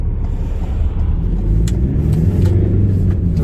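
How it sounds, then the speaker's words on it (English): A Ford Transit Trail van drives along with a loud, steady low engine rumble and road noise heard from inside the cab, with occasional faint clicks and rattles on top. "of course I'm driving this van today"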